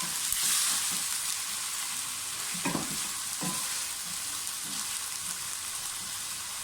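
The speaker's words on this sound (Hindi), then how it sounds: "थोड़ा सा और भूनें" Chicken pieces frying in a pot, a dense steady hiss of oil held at a moderate level, with a couple of brief stirring knocks partway through and no voices.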